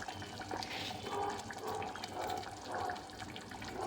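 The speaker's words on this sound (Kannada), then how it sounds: "ಈಗ ಸಾರು ಕುದೀತಾ ಇದೆ." Fish curry (saaru) in a pot at a rolling boil after water has been added, making continuous bubbling and gurgling that swells and eases in waves, close up with no talking.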